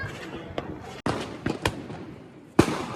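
Diwali firecrackers going off outdoors in Ahmedabad, a series of sharp separate bangs and thuds at varied distances over a steady background hiss, ending with one louder nearby burst.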